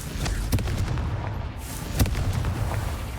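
A Confringo blasting spell goes off in Hogwarts Legacy, with heavy booming blasts, one near the start and another midway, over a continuous low rumble.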